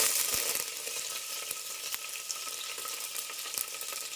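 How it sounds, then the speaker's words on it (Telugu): Mustard seeds and curry leaves sizzle steadily in hot oil in a pan for a brinjal dish, a close bright crackle broken by a few sharp pops, with no speech. "ఆయిల్ హీట్ ఎక్కింది, ఆవాలు వేసేద్దాం. ఇప్పుడు కరివేపాకు,"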